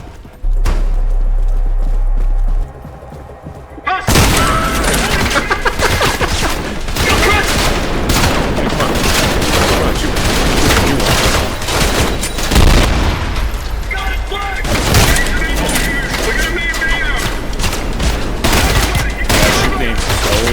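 Sustained gunfire from the first-person shooter video game Trepang2, a dense, loud barrage of rapid shots and booming blasts that continues almost without pause after a brief lull at the start.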